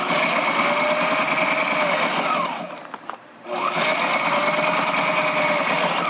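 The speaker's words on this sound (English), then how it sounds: "Very complex bit of sewing to do." A sewing machine stitches with a loud, steady whirring hum. It briefly slows and stops near the middle, then starts again at full speed.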